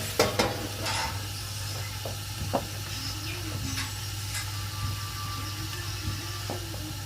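Onions and peppers frying in a pan for a quick weeknight dinner, a steady close sizzle with a few sharp utensil clicks and stirring scrapes near the start, under a low constant hum.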